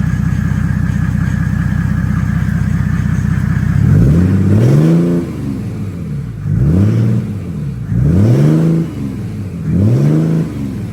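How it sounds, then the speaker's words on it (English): Mercedes-Benz OM606 diesel engine running in a garage after an injection pump install, a steady close idle that then gives way to four quick revs rising and falling in a regular rhythm. "I'm gonna let it sit here and idle, warm up real quick"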